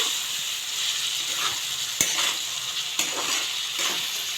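Tomatoes with a pinch of turmeric frying in a pan for poha upma, a steady close sizzle with a few sharp taps of a spoon against the pan.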